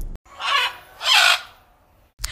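A bird squawk sound effect for a children's audiobook: two loud, harsh squawks in quick succession, close up and set against near silence.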